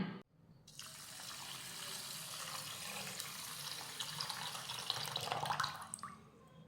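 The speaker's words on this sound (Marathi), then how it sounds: "त्यासाठी घालूयात दोन वाट्या पाणी" Water pours steadily onto rice in a vessel, a continuous splashing rush lasting several seconds, close by with no talking.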